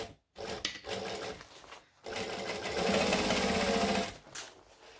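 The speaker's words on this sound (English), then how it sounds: "And then I'm going to stitch it, making sure that I leave a half inch gap." Sewing machine stitching fabric in a tutorial setting, with short close bursts of rapid mechanical whirring separated by brief pauses, then a longer steady run before it stops.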